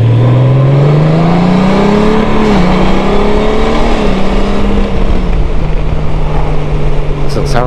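A 2018 Honda GoldWing touring motorcycle accelerating on a ride, its engine a loud, close, continuous drone that climbs in pitch, drops briefly at a shift, then holds steady, with wind noise throughout.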